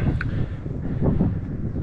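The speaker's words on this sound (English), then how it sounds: "it's been windy all day." Steady low wind buffets the microphone in a constant rumbling gust at Red Rock Canyon, with no voices.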